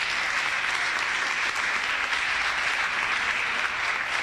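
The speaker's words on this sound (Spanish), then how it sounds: "Les pido por favor un aplauso para nuestro keynote speaker, Frank LaRue." Steady, full audience applause for a keynote speaker at an internet and human rights conference, dense clapping that holds evenly throughout without voices.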